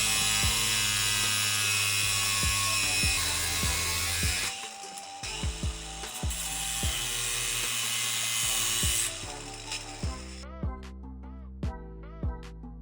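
A bolt shank for a sway bar disconnect mount on an FJ Cruiser is cut at 1.5 inches, giving a loud, steady grinding whine that runs for about ten seconds, then stops and leaves a few sharp mechanical clicks.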